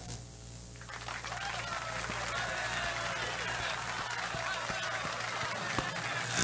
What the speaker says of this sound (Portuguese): Prepara as palmas para mim.